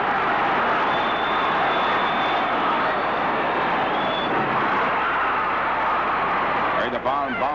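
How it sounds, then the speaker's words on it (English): A crowd of 15,000 fans roars at a 1952 roller derby game between the Chiefs and the Jolters at Madison Square Garden, a dense, steady wall of noise that continues throughout, with a faint voice near the end. "and you can hear that roaring in the background when the action gets rough"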